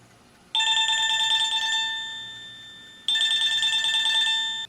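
An EVERSECU wireless doorbell chime plays during pairing. It sounds two bright, bell-like electronic tones, the second starting about two and a half seconds after the first, and each one rings on and slowly decays. The chime is clear and close, with no talking.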